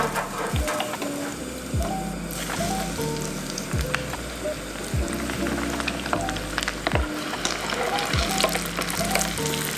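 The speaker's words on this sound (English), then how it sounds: "Be mindful that this doesn't have to fry for a long time because everything's already cooked." Shrimp croquettes frying in hot oil, a steady loud sizzle and crackle that fills the whole stretch, with occasional soft knocks of a utensil against the pan, close up and with no voices.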